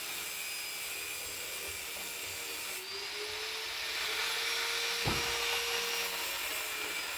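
A grinder worked by a welder fabricator, whining steadily and loudly up close. Its pitch shifts as it bites into metal, with one sharp knock midway and a continuous gritty hiss throughout.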